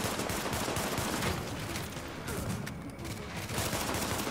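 Pistol fire in The Division, heard as a rapid fusillade of cracking shots layered over a dense, noisy battle background, fairly loud and sustained throughout.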